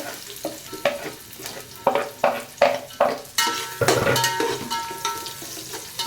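Onions frying in oil with kasuri methi for an egg and prawn masala sambar, a steady sizzle broken by repeated scraping stirs of a spoon against the pan.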